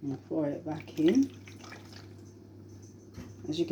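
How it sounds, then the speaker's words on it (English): Homemade sanitizer liquid is poured back into its bottle, giving a soft, steady trickling and dripping that runs under a person talking close by. "I'm going to pour it back in."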